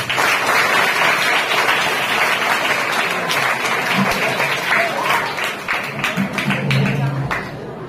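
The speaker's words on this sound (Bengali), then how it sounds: "এই দুটোর জন্য আমরা সবাই তোমাদের অভিনন্দন জানাচ্ছি হাততালি দিয়ে" A school audience applauds students in a dense, loud burst of clapping that holds steady for several seconds and then thins toward the end, with some voices mixed in.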